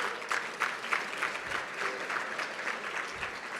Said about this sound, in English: I'd like to have another little round of applause for the Metropolitan Council as well